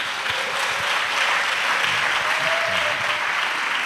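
Steady, dense applause from a large audience at a pastoral academy church gathering, sustained clapping at even loudness throughout with no break.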